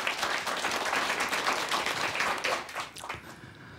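Hearty applause from a studio audience at a televised lecture, a loud, full wash of many hands clapping steadily before thinning and fading toward the end.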